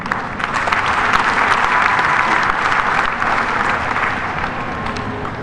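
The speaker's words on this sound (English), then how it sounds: "Let us give God a mightier hand clap." A large congregation at an outdoor vigil Mass in Uganda claps hands together in a loud, sustained burst that fills the space evenly for several seconds.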